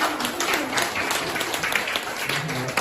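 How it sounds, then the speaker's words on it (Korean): A church congregation at a Thanksgiving program gives steady applause, continuous clapping from many hands at moderate loudness with a faint voice beneath it. "박수 한번 부탁드립니"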